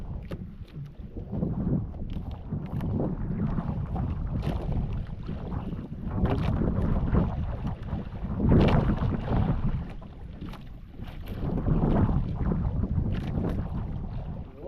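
Wind buffets the microphone in a low, steady roar with slow surges while a boat drifts with the wind on open water. No one speaks.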